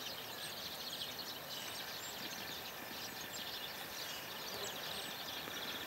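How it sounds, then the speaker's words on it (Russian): Many birds chirp and call together in a constant, faint chorus in a woodland shelterbelt near the Kalmius river, with no voices. "Послушайте, сколько здесь птиц."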